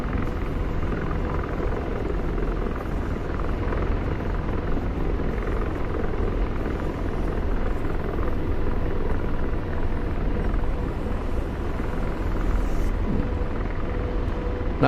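A helicopter rotor in a flight video game drones loud and steady through a downward spiral with a full load, a continuous deep thrum and rumble with no voices over it.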